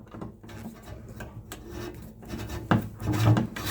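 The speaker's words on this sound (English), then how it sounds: "Take my standard screwdriver." A standard screwdriver tightening a screw on a light fixture: close, irregular scraping and rubbing with small metallic ticks as the screw turns, louder toward the end.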